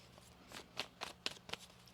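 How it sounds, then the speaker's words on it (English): Tarot cards being shuffled at close range in a few quick papery bursts, soft riffling flicks spaced about a quarter second apart, fairly quiet with a low hum underneath. "One more shuffle."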